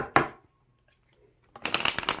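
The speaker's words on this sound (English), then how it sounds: "the cards aren't shuffled well enough for them" Tarot cards being shuffled close up: a single riffle snap, a quiet pause, then a rapid flurry of fluttering card riffles.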